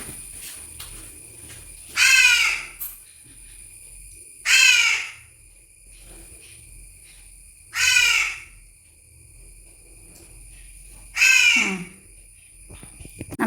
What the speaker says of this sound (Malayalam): നമ്മുടെ കാക്കച്ചിപ്പെണ്ണ് വന്നത് കണ്ടോ ചോറുണ്ണാൻ വന്നത്